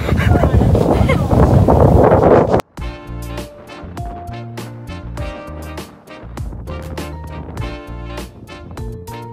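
Heavy wind buffeting the microphone for a couple of seconds on a mountain summit at Mt. Batulao, then a sudden cut to plucked, tonal music.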